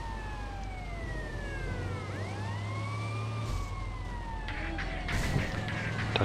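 A police car siren wails in the PS2 game GTA Liberty City Stories, rising and falling sweeps over steady engine and street noise, with several overlapping sirens briefly layered together.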